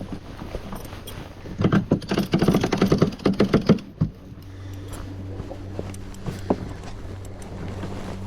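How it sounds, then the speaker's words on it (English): A sailboat's winch cranks in the headsail, a rapid burst of clicking ratchet turns lasting about two seconds, close up over a low steady hum of wind and water, followed by a few scattered clicks. "Maybe we can crank the head sail now."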